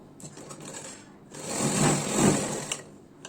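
A sewing machine runs one continuous stitching burst along a blouse seam, close and clear, rising to a steady whir and then slowing to a stop.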